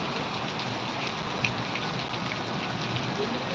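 Heavy rain pours down in Hitech City, Hyderabad, a dense, steady hiss and patter that holds evenly throughout with no pauses.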